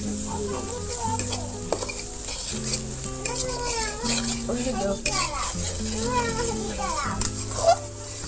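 Spice masala sizzles and hisses while being stir-fried in a pan, with steady frying noise and occasional clinks of a utensil, under music and children's voices in the background.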